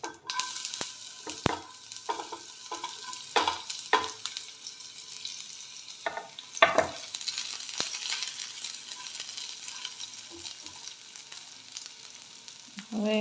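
Onion and mustard seeds frying in hot oil for a Gujarati-style black chana salad, a steady sizzle punctuated by sharp crackling pops and occasional stirring clatters, close and continuous throughout with no talking.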